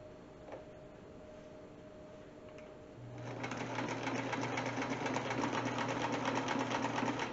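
A sewing machine stitching denim starts up after a few quiet seconds and runs steadily, a fast, even mechanical whir and clatter close by.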